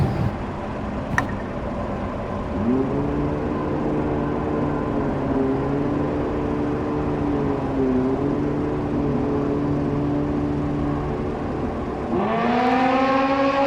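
Top Gas drag racing cars at a drag strip idle and rumble loudly with shifting engine tones, then one revs sharply near the end, alone without voices.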